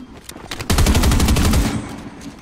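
Rapid automatic gunfire in the video game Fortnite, a loud sustained burst of closely spaced shots lasting about a second, preceded by a few scattered single shots.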